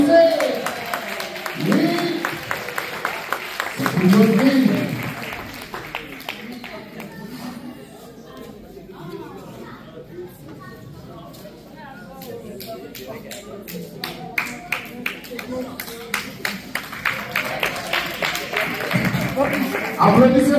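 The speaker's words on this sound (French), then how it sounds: "Oh, applaudissez!" Audience claps for a prize winner at a volunteers' party in Val d'Or, with bursts of separate handclaps that thicken in the second half, mixed with voices and talk over the crowd.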